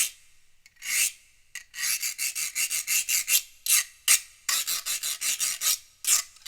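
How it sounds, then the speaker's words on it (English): Someone scrapes a piece of bamboo like a rasp instrument, making close, bright, raspy strokes in quick rhythmic runs separated by short pauses, with no talking. "This right here, this is a piece of bamboo."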